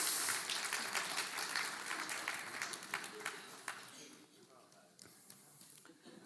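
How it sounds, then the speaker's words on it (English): Audience applause in a church gathering, fairly dense clapping at first that gradually thins into scattered individual claps, with some voices murmuring over the tail. "Round of applause for them, that's really good."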